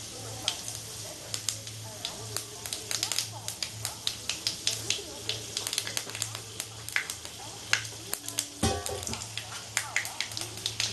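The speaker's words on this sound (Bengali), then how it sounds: "তেলটা গরম হয়ে গেছে পাঁচ ফোড়ন আর শুকনো লঙ্কা দিয়ে দিলাম" Panch phoron and dried red chilies hitting hot oil for a Bengali-style coconut chana dal, a busy crackling sizzle of rapid pops and spits over a steady low hum, close and continuous throughout.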